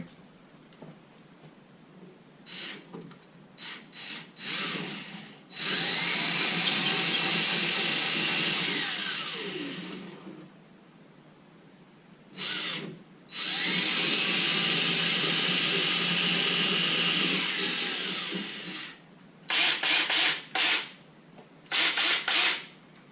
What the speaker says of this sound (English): I'll drill a bit more into the brick